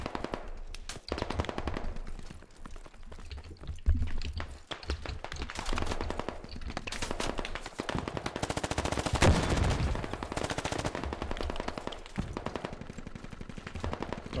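Heavy gunfire in the video game Squad, continuous automatic bursts and single shots at varying distances, loud and relentless with no talk.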